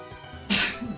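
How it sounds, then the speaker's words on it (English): A single sharp human sneeze bursts out abruptly, close and fairly loud, followed by a brief voiced exhale, against quiet background. "Oh, bless you, hon."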